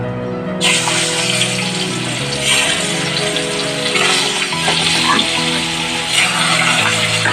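Pieces of katla fish, rubbed with salt and turmeric, drop into hot oil in a kadai, setting off a sudden loud, steady sizzle that keeps going beneath background music.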